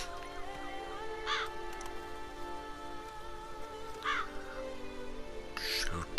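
Crows in The Witcher 3: Blood & Wine give three separate harsh caws spaced a few seconds apart over a steady ambient game soundscape.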